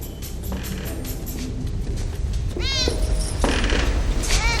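A black cat meows twice, clear rising-and-falling calls near the end, over a steady background hum.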